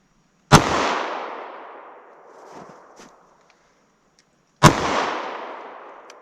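Two loud, sharp gunshots from a .327 Federal Magnum fired into wood planks outdoors, several seconds apart, each with a long echoing tail fading into quiet.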